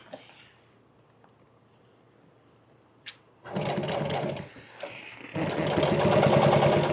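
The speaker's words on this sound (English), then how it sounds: "while I'm here at the sewing machine, I'm going to go ahead and make these other 2 trim welts" A sewing machine stitches upholstery trim welts for a dog-damaged chair. After a quiet start with a small click, the motor starts up loud and close, pauses briefly, then runs again steadily.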